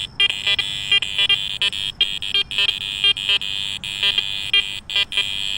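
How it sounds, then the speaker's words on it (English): A Garrett Ace Apex metal detector over an iron test board gives a steady high electronic tone broken by quick irregular iron beeps and chirps that stutter on and off at close range. "I can hear my iron audio with that suppressed iron volume in the background."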